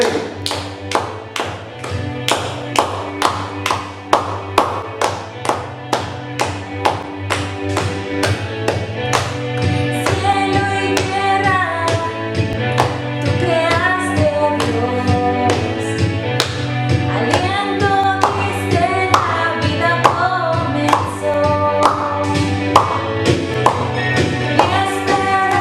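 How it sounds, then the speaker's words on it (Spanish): A church congregation claps in a steady, sharp rhythm along with loud worship music that carries on throughout. "usa tus manos, aplaude, grita, chifla"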